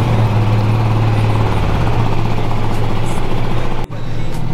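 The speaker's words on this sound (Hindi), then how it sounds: "मेरी बाइक जो है ना अभी भी मतलब अच्छी है, फर्स्ट क्लिक में स्टार्ट हो जाती है।" KTM Duke 250 Gen 3 motorcycle engine running at a loud, close, steady low idle after a cold start, with a brief dip near the end.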